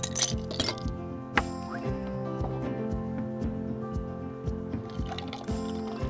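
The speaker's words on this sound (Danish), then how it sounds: "Så skal vi have lidt isterninger i." Ice cubes rattle and clink into a glass of freshly shaken organic carrot juice, a busy run of small knocks and cracks with a louder clunk early on and no talk.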